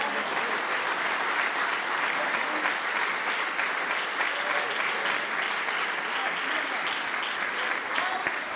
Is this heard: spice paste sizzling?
no